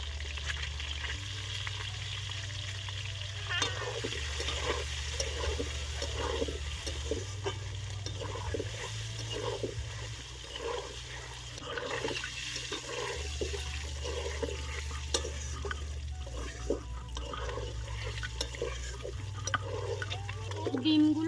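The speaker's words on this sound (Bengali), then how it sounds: "আমার লাল লাল করে ভাজা হয়ে গেছে এবার আমি ডিমগুলো তুলে নেবো" Eggs sizzle in a pan for a village-style egg curry, giving a continuous soft crackle over a low background hum.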